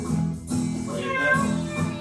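A voice imitates a cat's meow during a sung Old MacDonald farm song at a parent-child class, a couple of drawn-out, pitched mews that are close and clear.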